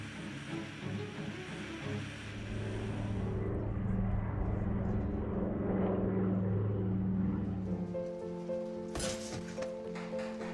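A Douglas DC-3 propeller airliner drones overhead, its engine hum swelling louder through the middle, then steady tonal engine notes take over near the end.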